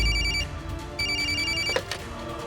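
A telephone rings in short repeated electronic bursts, a clear tonal trill sounding twice with a brief gap, fairly close over a low background hum.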